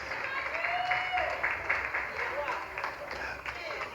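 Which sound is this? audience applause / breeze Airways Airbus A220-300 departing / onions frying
audience applause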